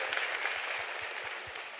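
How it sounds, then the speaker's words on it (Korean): A church congregation claps at a Friday worship service, a dense, steady wash of applause filling the room at even loudness throughout, with no voices above it. "우리 하나님께 감사와 영광의 박수를 드리겠습니다."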